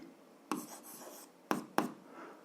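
Pen writing out an algebra solution on paper: near, soft scratching strokes with three sharper taps as the pen lands, in a quiet room without speech.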